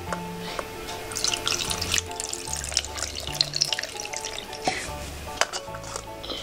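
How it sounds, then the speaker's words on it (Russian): Water pours and splashes into a basin close by as a small toy is rinsed, with trickling and light sloshing under a faint background hum. "И будем наливать водичку."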